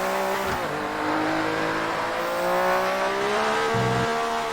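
A Formula 1 car engine in the F1 2019 racing game revs steadily high, its pitch rising and dipping through throttle changes with a brief tire-squeal-like scrub, loud and continuous with no talking.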